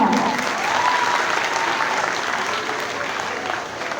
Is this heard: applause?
yes